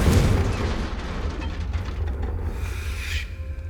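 In the Hogwarts Legacy video game, a Confringo fire spell blasts with a heavy booming burst that fades into a rumbling, crackling tail over a few seconds, with no voices heard.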